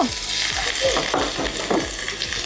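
Garlic hisses and spatters in hot sunflower oil while a utensil stirs, with rhythmic scraping strokes over a constant close, loud sizzle.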